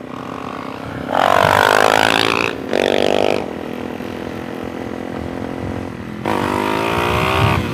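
A brand new Suzuki DRZ400SM fitted with a knock-off FCR 39 carburetor revs and pulls away in loud bursts, engine rising sharply twice then settling to a steady idling drone before another hard rev, running a bit sluggish in humid weather.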